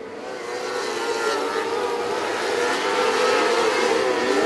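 Race cars roar around a high-banked track at a 2014 Friday night qualifier, a loud, continuous engine drone that rises slightly, heard close and steady.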